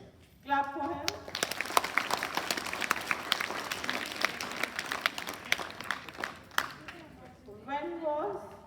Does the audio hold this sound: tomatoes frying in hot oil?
no